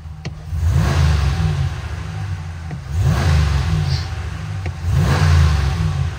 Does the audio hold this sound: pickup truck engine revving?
yes